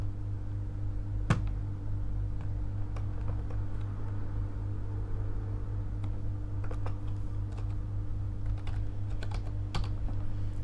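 Keys on a computer keyboard tap out a short label on a PC running openSUSE Leap 15.3, the clicks sparse and irregular over a steady low machine hum, fairly quiet and with no talk.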